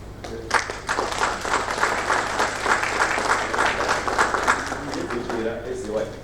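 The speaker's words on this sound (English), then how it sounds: "Let's give him a round of applause." Audience applauding after a presentation, steady clapping from many hands that swells and fades, with a voice speaking over the start and end.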